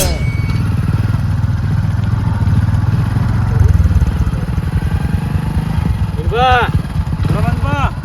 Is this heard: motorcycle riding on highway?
yes